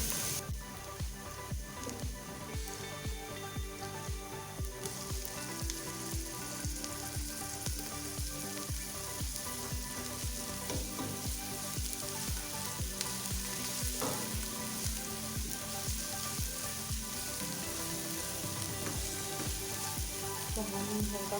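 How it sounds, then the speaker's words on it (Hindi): Ginger garlic paste frying in a mutton karahi, a dense, steady sizzle with bubbling crackle that runs unbroken throughout, close-up and without voices. "तो हम हल्का सा फ्राई करेंगे।"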